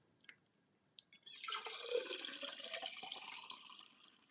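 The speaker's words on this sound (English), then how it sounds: "That's the sound of some refreshing water." Water running from a tap after a couple of sharp knocks, a steady close splashing stream that fills the space and fades slightly toward the end.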